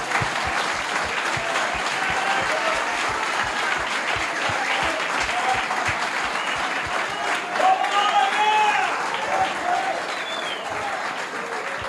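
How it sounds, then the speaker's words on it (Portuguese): A church congregation applauds in a steady, rhythmic clapping beat for about seven seconds, then breaks into louder mixed clapping with whoops and whistles before easing off. "Vamos dar um aplauso por essa palavra"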